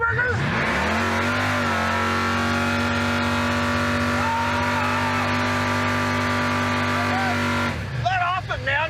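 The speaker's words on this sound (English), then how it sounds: "Talk about burnouts for distance, dude." The Roadkill crop duster car holding a long burnout for distance, its engine revving at a high, steady, strained pitch for several seconds before dropping off near the end, with voices over it.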